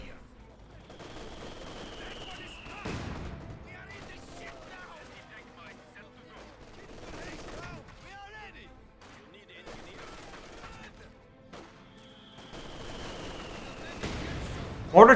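Gunfire from an MG42 machine gun and mortars in Company of Heroes 2: scattered bursts and thuds of battle at moderate volume across a long stretch, with a louder report at the end.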